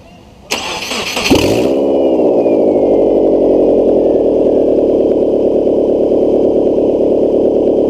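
A Subaru engine with a lack-of-power problem cranks briefly with a sharp whirring starter, then catches and settles into a loud, steady idle close by, running on without talk.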